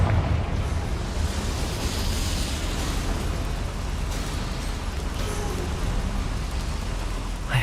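A Confringo blasting spell explodes in Hogwarts Legacy, a heavy, sustained roaring blast with rumbling low end that fills the whole stretch at steady loudness.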